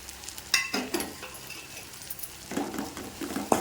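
Turkey berries fry with spice powder in a pan, giving a soft, steady sizzle with a few clinks and scrapes of a spoon stirring, close and moderately quiet.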